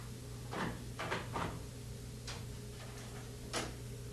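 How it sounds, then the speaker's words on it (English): A commercial tumbler dryer's lint panel is pushed back into place and locked during a drive belt change, giving several sharp clicks and knocks in bursts over a steady low machine-room hum. "Reinstall and lock the lint panel."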